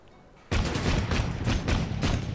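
Gunfire in the Victorian-era video game Assassin's Creed: Syndicate breaks out suddenly after quiet, a loud, close rapid volley of shots continuing without pause.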